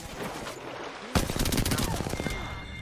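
Rapid automatic gunfire in a first-person shooter game bursts in suddenly after a quieter stretch, a dense run of sharp shots lasting over a second and then trailing off into softer background game sounds.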